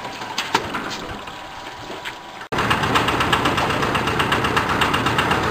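Electric motor of a porang tuber washing machine running with a rapid, even mechanical chatter and vibration, quieter at first, then jumping suddenly louder midway and staying steady to the end.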